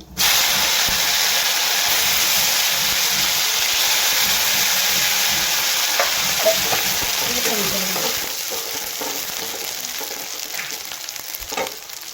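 Ground spice paste hits a hot pan, bursting into a loud, dense sizzle that holds steady and then softens slightly, with occasional stirring scrapes and a faint voice in the background.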